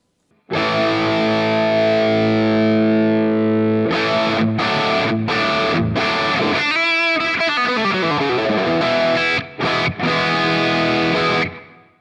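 An electric guitar played through the drive effect of a NUX MG-400 multi-effects unit, a sustained distorted chord followed by gritty strummed chords and a sliding bend, loud and alone.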